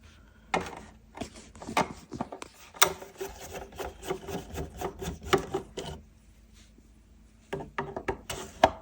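Screws are removed from the spout of a Homedics ultrasonic humidifier, a quiet close run of small scraping, rubbing clicks in irregular bursts with a short pause before more.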